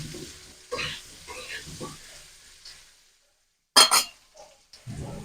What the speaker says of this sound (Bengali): আলুগুলো ভাজা হচ্ছে